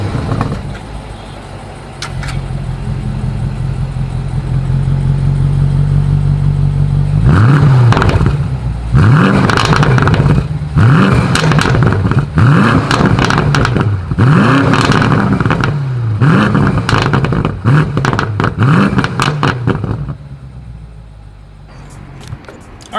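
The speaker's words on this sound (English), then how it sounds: "you guys will hear all of the wonderful crackle that comes with the M850i. As always, here is that exhaust clip." 2020 BMW M850i Gran Coupe exhaust in sport mode: a loud idle, then a series of sharp revs rising and falling roughly every second or two, with crackles and pops on the lift-offs before settling back to a steady idle.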